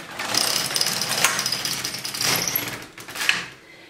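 An LK150 knitting machine carriage pushed across to knit one row, a close continuous mechanical whirring rattle that swells and eases over a few seconds before trailing off, no speech.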